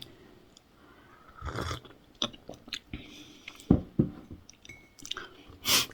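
Someone eating breakfast, with close, intermittent chewing and biting sounds, crunchy bites and soft squishes spread unevenly over a few seconds, with no talking.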